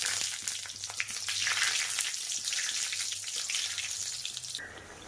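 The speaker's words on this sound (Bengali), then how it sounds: "তেলটা গরম হয়ে গেলে প্রথমে কয়েকটা বড়ি, বিউলির ডালের বড়ি কিন্তু আমি ভাজা করে নেব" Lentil dumplings (bori) fry in hot mustard oil with a steady, close sizzle and scattered crackles and pops throughout, ending in a quieter tail.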